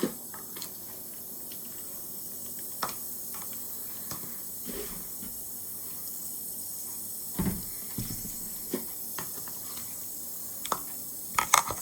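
Room-temperature water is added to cups of vinegar and dye tablets for dyeing Easter eggs, a soft continuous hiss and trickle with scattered light clinks of containers, fairly quiet and close, without talk.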